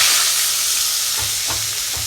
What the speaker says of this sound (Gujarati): ડુંગળી નાખી, ડુંગળી નાખી અને મિક્સ કરી નાખવાનું